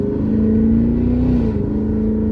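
A 2024 Cadillac Escalade ESV V-Series accelerates under light throttle, its exhaust a loud, close, deep steady drone with a rising then settling engine tone, no talk over it.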